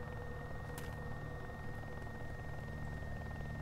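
A helicopter in DayZ makes a continuous low rotor thrum with a steady engine whine, unbroken and moderately loud, no voices.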